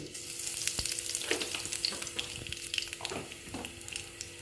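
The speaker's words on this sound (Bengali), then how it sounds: "তেল দিয়ে দিলাম তেলটা গরম হতে দিচ্ছি তারপরে দিচ্ছি কালো জিরে" Black cumin seeds crackle and sizzle in hot oil with a steady frying hiss, broken by a few sharper pops and scraping stirs, close and alone with no voices.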